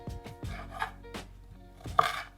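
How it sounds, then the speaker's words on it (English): A knife cuts ginger into thin slices and then slivers on a board, giving a few distinct close thuds and scrapes spaced through a quiet background. "So I just like to cut it into little skinny slices like this, and then cut those into like little slivers."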